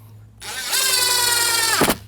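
A power drill drives a screw through a shim while a storm door is installed, giving a steady whirring drone of about a second and a half that ends in a quick tightening burst.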